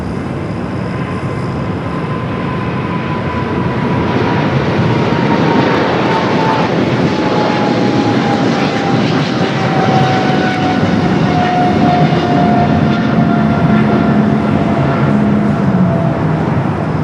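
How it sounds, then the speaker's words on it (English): Airliner taking off from runway 25 right at LAX, a loud continuous jet engine roar with a slowly falling whine, steady throughout and heard alone without talk. "runway 25 right, clear for takeoff"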